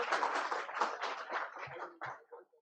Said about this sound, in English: A big clap for all of you.